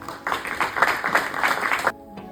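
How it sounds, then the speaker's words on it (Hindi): Audience applause at a theatre festival in Chandigarh, a steady wash of many hands clapping that swells in and holds for about two seconds, then cuts off abruptly. "जोरदार तालियां।"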